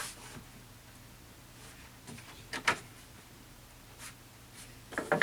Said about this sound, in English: There's a little groove that this straight cutter fits into nicely. Just going to cut that.